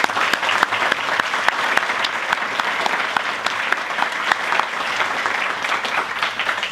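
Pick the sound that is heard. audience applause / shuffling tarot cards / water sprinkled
audience applause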